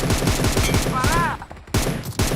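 Rapid bursts of gunfire in a shooter video game, dense repeated shots over the whole stretch, with a short gap before firing resumes; a faint warbling tone rises briefly in the middle.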